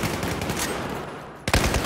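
Rapid automatic gunfire in Battlefield 4, a steady rattling stream of close shots followed by a sharp louder blast near the end.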